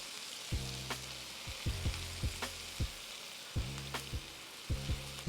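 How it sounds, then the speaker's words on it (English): Partially cooked asparagus hits a hot pan of garlic butter steak bites, setting off loud bursts of frying sizzle with stirring clatter, several surges across the stretch, close and with no voices. "now we're gonna go ahead and add in the asparagus that's already partially cooked"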